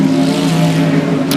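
Race cars roar through turns 1 and 2 at 105 Speedway in a loud, sustained engine drone with steady tonal harmonics. Nothing else breaks through the noise.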